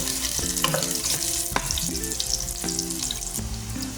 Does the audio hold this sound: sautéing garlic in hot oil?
yes